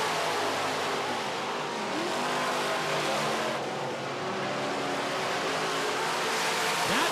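Midwest Modified race cars battle for first place through turn four in a short-track feature, engines roaring steadily and close, with a few brief tire squeals in the continuous motor noise.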